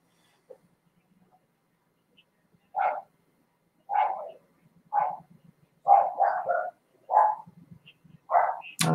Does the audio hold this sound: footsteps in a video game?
no